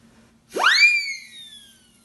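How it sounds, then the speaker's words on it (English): A siren whistle shrieks, its pitch sweeping sharply upward, then holding and slowly sagging as the shrill tone fades out. "And of course, ubiquitous siren whistle"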